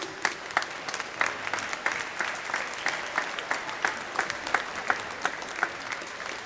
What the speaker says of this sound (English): can we give a big round of applause to the officials and all the volunteers for the work they're doing this weekend